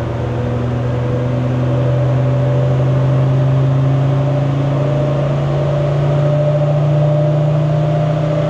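A Land Rover Defender 90 Td5 diesel fitted with a GTB450 VNT turbo revs high and holds near the top of its range, a loud, steady droning engine note with a slowly rising pitch and no talk over it.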